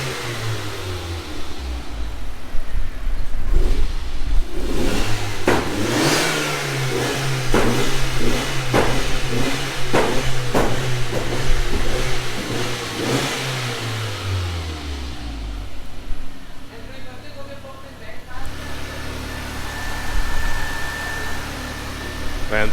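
A car fitted with a swapped 1.8T 20v engine, sitting in a workshop, idles and then revs up repeatedly in sharp bursts before settling back to idle, loud and close with no talking.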